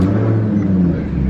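A previously flooded Maserati with a blown, rebuilt engine runs and revs after its restart. The exhaust note is a loud, close, steady rumble that holds near one pitch, with no voices.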